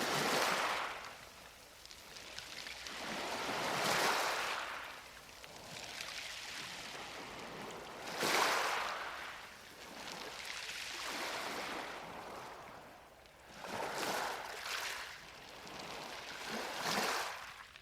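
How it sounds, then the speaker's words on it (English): Small waves lap onto a shingle beach in slow, repeated washes, each surge swelling and hissing over the stones before easing back, steady and close with no voices. "It's a shingle beach. And it's a really therapeutic sound. Just as the small waves just lap onto the shingle."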